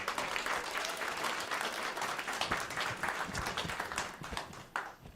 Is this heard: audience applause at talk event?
yes